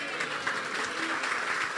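Congregation clapping during a church sermon, a dense steady wash of many hands applauding with no break, fairly loud throughout.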